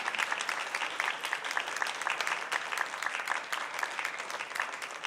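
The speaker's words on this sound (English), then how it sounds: "Let's give them a big round of applause." Steady applause from a crowd at a transit board of directors meeting, a dense patter of clapping that holds evenly for several seconds with no voices over it.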